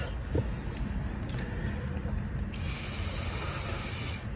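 A steady, bright hiss of a spray bottle blasting cleaner onto a Mazda Skyactiv camshaft part for a couple of seconds, close by, following a few short spritzes and faint clatter.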